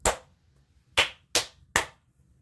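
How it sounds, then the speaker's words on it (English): Four sharp, isolated hand claps sound close by, the first followed by a pause and the last three in quicker succession, each crisp and distinct against near silence. "So if I clap, you see it come on."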